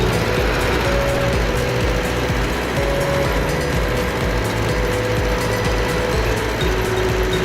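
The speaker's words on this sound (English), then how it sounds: "Even the tractor's not handling the frozen ground." A tractor strains against frozen ground, putting out a loud, unbroken mechanical grinding and rattling drone that holds steady throughout with no voices.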